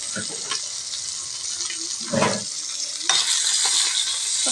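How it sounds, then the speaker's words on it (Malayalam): Anchovies fry in a pan over a low flame, giving a continuous bright hiss of hot oil broken by a few brief stirring scrapes and bursts, close and fairly loud. "ലോ ഫ്ലെയിമിലാണ് വയ്ക്കുന്നത് കേട്ടോ നന്നായിട്ടൊന്ന് പൊരിയെടുക്കാം"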